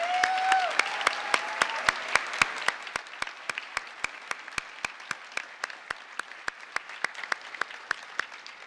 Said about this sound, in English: let's give a round of applause to our faculty